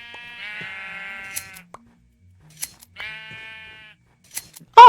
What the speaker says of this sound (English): Oh, we have a pink sheep sort of situation.